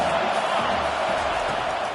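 A stadium crowd in a football video game cheers in a dense, loud, continuous roar with no breaks.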